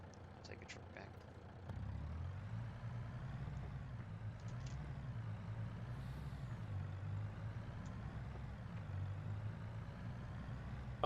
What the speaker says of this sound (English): I'll take a truck back.